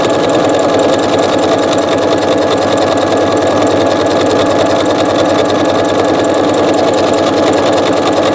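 A sewing machine stitches fabric with Gütermann thread in a loud, close, continuous rapid mechanical whir. The rhythmic needle clatter runs without a break, and no one speaks.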